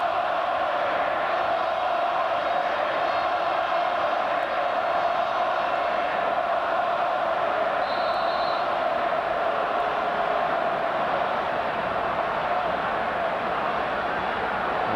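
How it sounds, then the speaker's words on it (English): A World Cup qualifier stadium crowd, Australia against Iran, roars and jeers at a referee's decision, a sustained loud mass of voices throughout. "The crowd making it fairly clear what they feel about the decision"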